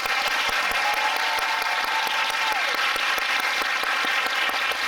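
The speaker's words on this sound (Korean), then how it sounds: "다시 한 번 이들에게 큰 박수 부탁드립니다." Audience applause at the final-performance curtain call of the musical King Arthur, sustained dense clapping with sharp individual claps standing out, steady and loud throughout.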